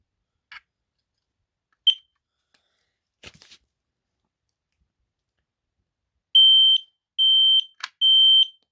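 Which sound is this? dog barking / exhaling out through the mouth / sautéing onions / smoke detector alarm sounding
smoke detector alarm sounding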